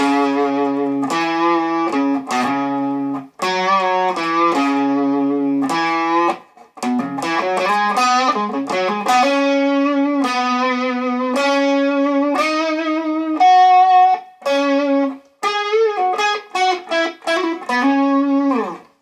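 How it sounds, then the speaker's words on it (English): A distorted electric guitar on the bridge pickup plays a melodic riff of sustained single notes and short phrases, bright and gritty, with no voices. "we've got the bridge pickup here with a bit of distortion"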